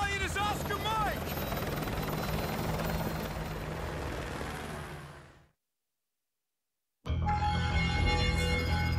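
A helicopter in Call of Duty: Modern Warfare 2 Remastered gives a loud, steady rotor roar with a voice under it. The sound cuts to silence for about a second and a half, then the rotor noise returns just as loud.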